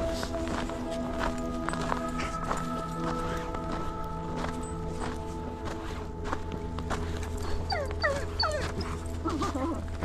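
An Agouti Lycan Shepherd at a busy outdoor dog park whimpers and shuffles amid footsteps and movement, with a constant background hum and scattered high squeaky whines near the end.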